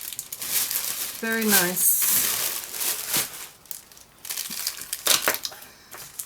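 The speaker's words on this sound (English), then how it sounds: "I'm going to quickly take them out of the paper so I'm not making all kinds of noise" Makeup brushes with dark handles and silver ferrules are pulled from crinkling paper wrapping, giving bursts of close, rustling crackle that come and go; someone speaks briefly between the crinkles.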